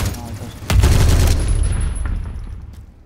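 In Roblox Phantom Forces, a grenade goes off with a heavy low blast, a quick crackle of gunfire follows, and the rumble fades away over about two seconds while a voice speaks faintly.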